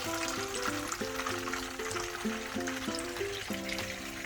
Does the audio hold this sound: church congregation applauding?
no